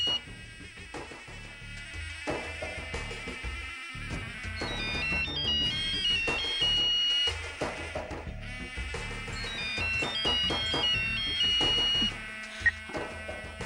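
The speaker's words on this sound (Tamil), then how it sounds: "ராணி, போன் அட்டெண்ட் பண்ண உனக்கு இவ்வளவு நேரமா?" A phone rings with a loud, repeating electronic melody ringtone. It plays twice in a row, close by, with no talking.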